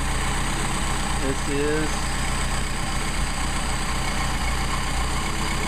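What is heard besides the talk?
Mercedes 190SL engine idling during carburetor test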